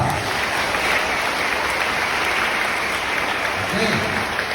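Loud, steady applause fills a high school Mass celebrating First Communion, a dense wash of clapping from a crowd that holds at full strength throughout.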